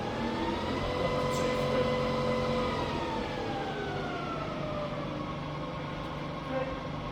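A rebuilt Bridgeport milling machine runs with a continuous steady whine and hum, its tones gliding slightly as the spindle speed shifts.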